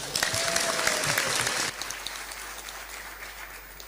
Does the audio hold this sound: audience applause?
yes